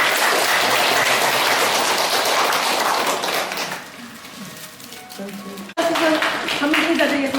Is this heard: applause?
yes